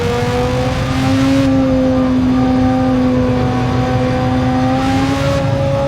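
A race car in Gran Turismo 7 during a Manufacturers Cup race, likely a GT3 machine, with its engine held at a loud, steady high-rev drone and sustained tonal whine as it accelerates hard out of a turn.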